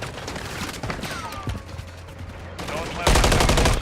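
Gunfire crackles in Call of Duty Modern Warfare 3, with scattered shots and mechanical clicks under game noise, then a loud sustained burst of rapid fire at the end.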